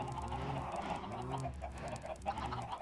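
Chickens clucking in the video game Minecraft, a few soft overlapping clucks repeating at a moderate distance, quiet and fairly steady with no talk over them.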